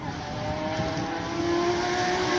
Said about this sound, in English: Alex Johnson heads over in the all-wheel drive Audi off the start line.